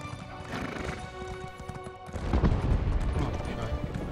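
A horse in the Elder Scrolls Online video game neighs and gallops, rapid hoof clip-clops growing heavier and louder partway through, with faint game sounds behind.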